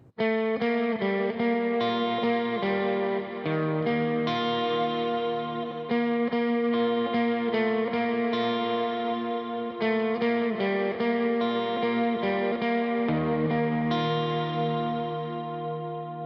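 Electric guitar plays a picked melodic line with overdrive, echoing delay repeats and reverb tails, clear and unaccompanied.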